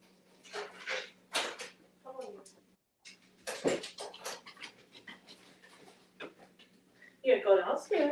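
Dog panting with soft whimpers, close by, mixed in with a voice talking to it in a quiet room, with a burst of louder breathy panting near the end.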